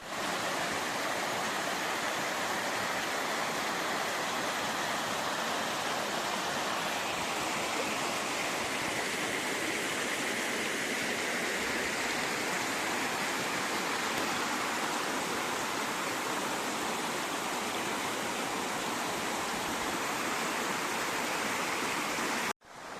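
Mountain stream and waterfalls cascading through a rocky ravine, a steady, dense rushing roar of water that stays constant and close throughout before cutting off abruptly at the end.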